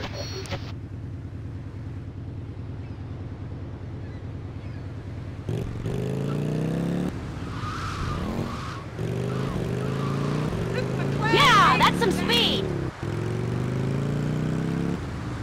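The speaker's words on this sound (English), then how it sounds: "Hey, Mercy, do you want to ride a fast bike around town?" Motorcycle ridden around town in the video game GTA Vice City, its engine droning steadily with rising and falling revs as it accelerates, plus a brief burst of game noise near the end.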